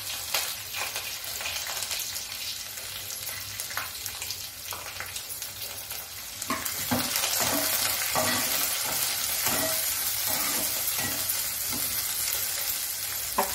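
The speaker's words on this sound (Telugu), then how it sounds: "ఉల్లిగడ్డ, పచ్చిమిర్చి వేగాయి." Onions and green chillies fry with curry leaves in hot oil, giving a steady sizzle that grows louder midway and is broken by repeated stirring scrapes, close and continuous without talk.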